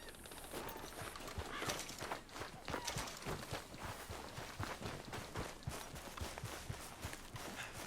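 Horse hooves in Red Dead Redemption 2 clip-clop steadily at moderate distance, mixed with busy game sounds and occasional sharp bangs, with no voices over them.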